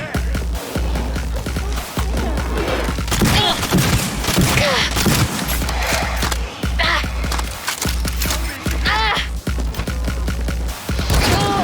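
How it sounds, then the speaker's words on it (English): Gunfire in the game Cyberpunk 2077, fired through walls: repeated heavy, splintering bursts of shots with booming impacts, spaced through the stretch amid other game noise and a voice. "So now I can shoot through walls."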